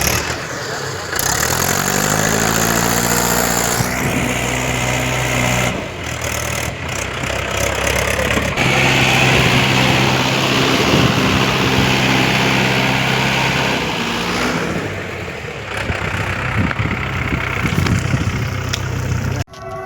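Tractor engine running nearby with a steady droning idle and a rising rev early on, its tone shifting as the load changes, while people talk over it.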